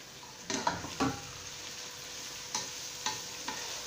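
Sliced onions fry in a hot pan for a Kerala-style spicy potato curry, a soft steady sizzle broken by a few separate scrapes and clinks of stirring, close up and fairly quiet.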